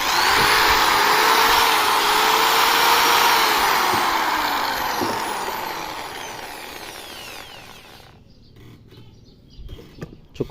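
A Dongcheng DZJ02-13 concrete drill runs loud and close in hammer mode with a steady whine, then winds down and stops, leaving near silence and a few small clicks.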